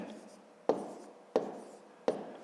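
A pen writes numbers by hand on paper, three distinct short scratchy strokes spaced evenly and close by.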